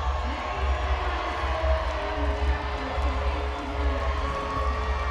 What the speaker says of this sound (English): The crowd's starting to show their displeasure.